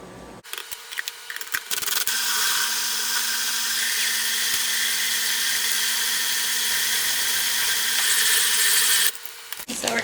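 Food processor pureeing fresh herbs and garlic as a filling for a tomato tart, a loud steady motor whir running continuously for about seven seconds, starting abruptly and stopping near the end.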